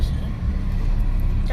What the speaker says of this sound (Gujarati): ગાડી જાય રહી છે